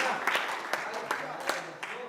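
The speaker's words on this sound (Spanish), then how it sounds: "Dele fuerte ese aplauso a Jesús." Church congregation applauding during a service: scattered, uneven clapping with distinct louder claps at intervals, mixed with voices and shouting from the crowd.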